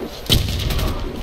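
A grenade blast in the online shooter Warface during a clan match, a single loud, sharp boom that rings out and trails off over about a second of background game noise.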